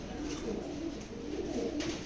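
A pair of racing Maxi pigeons coos softly and steadily, with low, repeated murmuring calls close by and a faint background hiss throughout.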